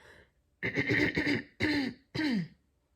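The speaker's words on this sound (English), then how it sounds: "It's actually really hard to clear my throat" A person clears their throat in three rough, gravelly bursts, loud and close.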